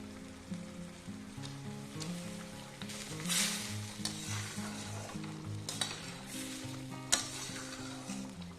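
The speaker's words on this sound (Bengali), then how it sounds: "গ্রেভিটা ফুটে উঠেছে" A paneer gravy sizzles and bubbles softly in a pan while a spoon stirs and scrapes now and then, close but fairly quiet, with a low hum in the background.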